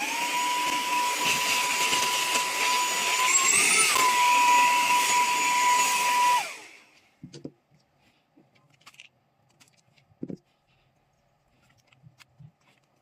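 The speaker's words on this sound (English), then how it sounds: "I buy this mini vacuum cleaner" A mini 3-in-1 vacuum cleaner runs with a loud, steady whine and airy rush for about six seconds, its pitch wavering briefly before it shuts off. A few faint clicks and handling noises follow.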